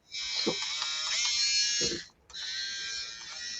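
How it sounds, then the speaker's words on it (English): A small handheld denture adjustment grinder whines at a high, steady pitch while grinding a 3D printed denture, stopping briefly and then starting again, with low grinding contact sounds beneath it. "take your adjustment kit and kind of grind off those blue dots"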